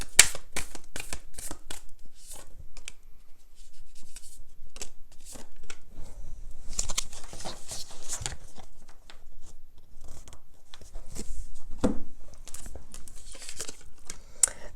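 Tarot cards are shuffled and drawn by hand, with repeated crisp riffling bursts and papery slaps, close and clear, broken by short quiet pauses.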